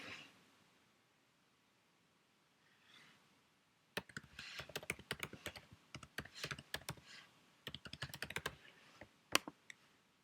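Password being typed on a computer keyboard: close, quick bursts of sharp key clicks after a quiet start, arriving in irregular runs with short pauses, no voices.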